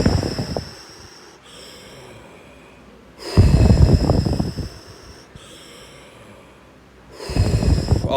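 Deep, intense breaths drawn through the mouth in a breathwork exercise, three loud, rough bursts of airflow about every three to four seconds, with a quieter, faint hiss between them.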